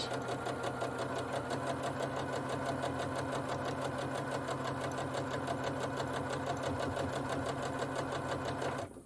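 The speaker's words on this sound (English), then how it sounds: "I'm going to go and back tack across this, and then I'm just going to sew all the way around" A sewing machine back-tacking and stitching around a small unlined drawstring gift bag: a continuous rapid mechanical whir and needle chatter, steady and close, stopping abruptly at the end.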